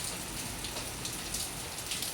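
Heavy monsoon rain pouring down in a village during the rainy season, a dense steady hiss of drops drumming on surfaces, loud and continuous with no other sounds.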